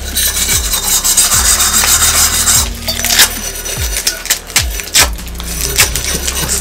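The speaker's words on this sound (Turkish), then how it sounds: "Şunun üzerindeki pasları alalım ben de. Ufak bir zımparaya." Small sandpaper rasps back and forth over a rusty metal jar lid, giving repeated scraping strokes at an uneven rhythm with occasional sharp clinks, close and loud.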